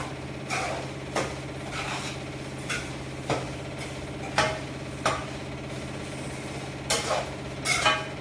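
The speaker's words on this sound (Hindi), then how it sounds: "अब मैं सूजी डाल दिया, अब मैं इसे भूनूंगी।" Semolina roasting in ghee in a wok, with a steady low background hum and repeated sharp scraping strokes of the spoon against the pan at a loose rhythm.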